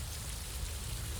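Rain falls steadily outdoors, a dense, even hiss of drops with a low rumble underneath, continuous and fairly close, with no voices.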